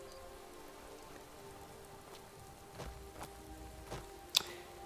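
Rain falling on a mountainside in the video game Skyrim: a quiet, even patter of raindrops with a few sharper drips and taps, one brief louder tap near the end.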